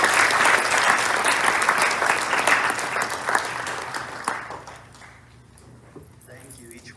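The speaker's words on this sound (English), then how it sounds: "Everyone, please give a round of applause for Mr. Carl Wilkens." Loud, sustained applause from a large crowd at a speech event fills the room, then tapers off and fades into quieter room sound.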